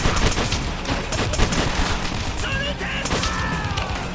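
Dense gunfire and booming blasts from a grenade going off in World at War, a World War II shooter, with loud, continuous battle noise throughout.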